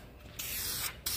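Engine enamel spray paint hisses from an aerosol can in two steady bursts, close and fairly loud, with a short pause between them and no talking.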